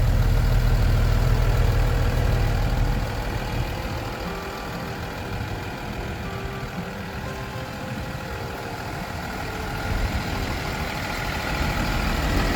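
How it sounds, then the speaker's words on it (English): The diesel engine of a 2013 Tiffin Allegro Red diesel pusher motorhome runs steadily nearby, a deep rumble that is louder at first, then settles into a lower, even idle. "I got the engine on, cooling it down with the ACs."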